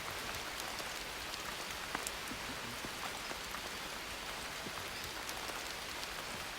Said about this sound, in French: sous une pluie battante